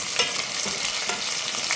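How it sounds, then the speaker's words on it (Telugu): Onions, green chillies and ginger-garlic masala frying in a pan, a steady close sizzle with soft stirring scrapes running throughout, no voices. "అవి చిటపటలాడాక ఉల్లిపాయ పచ్చిమిర్చి వేసేసుకొని ఇందులో కాస్త అల్లం వెల్లుల్లి మసాలా వేసుకొని దీన్ని కూడా ఒకసారి ఫ్రై చేసుకొని"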